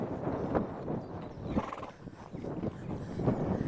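A horse canters during a riding lesson, its hoofbeats thudding in a steady, close three-beat rhythm over the arena footing with no voices.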